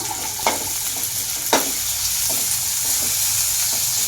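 Soaked, washed rice stirred and sautéed in a pan for rice kheer, giving a steady frying sizzle broken by a couple of sharp scrapes of the spoon, close and continuous with no talking.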